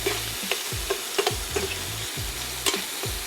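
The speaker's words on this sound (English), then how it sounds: "we're just going to render off this bacon" Bacon renders and fries in a pan for Cajun shrimp and bacon deviled eggs. A steady, close sizzle runs throughout, with regular scraping taps as the strips are stirred, and no talking.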